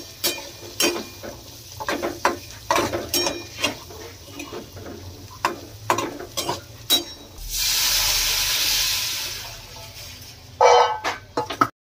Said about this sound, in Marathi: हळद आता हलवायची